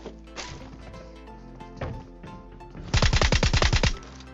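In PUBG Mobile (BGMI), a VSS rifle fires a rapid, loud burst of roughly nine suppressed shots, preceded by a couple of isolated thuds and game ambience.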